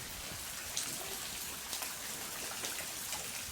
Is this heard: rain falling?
yes